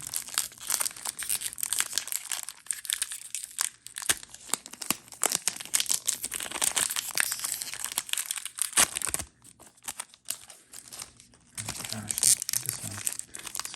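A Modern Horizons II booster pack's foil wrapper crinkles and crackles almost continuously as it is handled and torn open, with brief tearing bursts and a short lull near the end.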